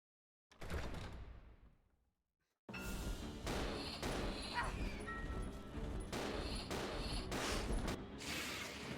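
Pistol gunfire in the video game Resident Evil 0, with a burst of shots, a brief silence, then a loud run of repeated bangs and crashes amid noisy game action.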